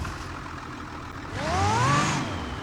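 A 5.9-litre diesel engine car in BeamNG.drive idles low, then revs up with a rising whine for about a second before easing back, fairly close and clear with no talk.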